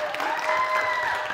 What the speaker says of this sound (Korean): 우리 배현진 집사님 큰 박수로 환영해 주세요